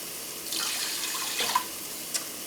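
Water runs from a tap into a measuring cup while someone prepares rice on the stove, a steady soft splashing stream with brief clinks near the end, close and moderately quiet.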